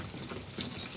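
Water poured onto a dried-out potted plant, a brief, soft continuous splashing trickle close by at low level.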